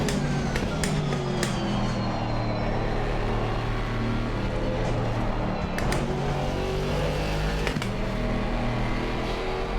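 A Mercedes-AMG GT4 race car in Assetto Corsa Competizione drones steadily through a simulated race, its engine a continuous loud hum with brief shift and rev changes, heard alone without talk.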